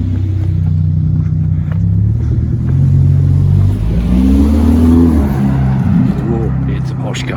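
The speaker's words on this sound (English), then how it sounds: "Relatively quiet, apart from this one car that's just going past." A Porsche driving past on a quiet village road in Belton, Leicestershire, its engine note rising and swelling as it nears and then fading away, with a person talking over it.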